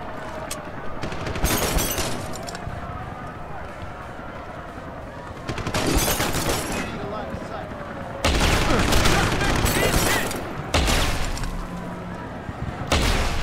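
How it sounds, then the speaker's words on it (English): Police gunfire in Deus Ex: Human Revolution, with repeated loud volleys and bursts of automatic and shotgun-like blasts that swell and recede, while someone talks throughout. "I like how they're shooting up here, even though they're civilians."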